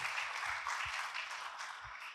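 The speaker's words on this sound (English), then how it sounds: "It's not usual, they require applause." Faint, distant audience applause at an awards ceremony, a soft steady wash of clapping heard from afar with a few low thumps underneath.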